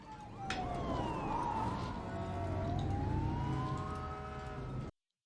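Police sirens wail with rising and falling tones, faint and distant over low traffic rumble, then cut off abruptly.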